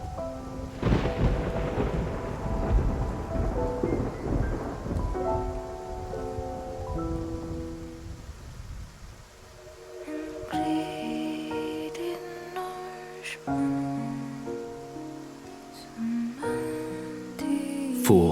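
A thunderstorm with rain at sea: deep rolling thunder booms loud at first and then fades under steady rain hiss, while a musical score takes over in the second half.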